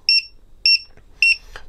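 A Dronekeeper Mini lost-model alarm sounding on a low LiPo battery pack: three loud, piercing double beeps at even intervals about half a second apart, close and alone, with a faint click after the last.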